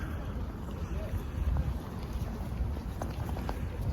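Wind buffets the microphone on a wet, muddy morning at London Colney training ground, a steady low rumble of gusts that stays close and fairly loud throughout.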